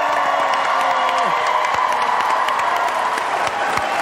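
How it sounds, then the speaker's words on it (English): A live studio crowd at a back-to-school dance show applauds and cheers loudly and steadily, with whoops rising over the dense clapping and a few voices calling out. "One more big round of applause for all of them."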